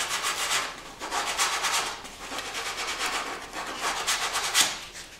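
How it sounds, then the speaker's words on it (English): Sandpaper rubs back and forth along the cut edge of a wood baseboard trim piece, making about eight close, rhythmic scratchy strokes with no talking. "Now just touch up the edge with a little sandpaper."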